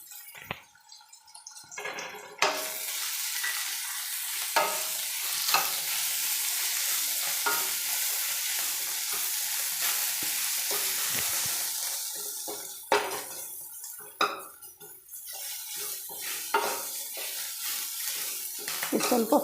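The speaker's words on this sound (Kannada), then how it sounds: "ಈಗ ಸ್ವಲ್ಪ ಫ್ರೈ ಆಗಬೇಕು." Onion frying in a pan with chilli powder, cumin and crushed garlic, a loud continuous sizzle broken by spatula scrapes and knocks, fading into quieter stirring toward the end.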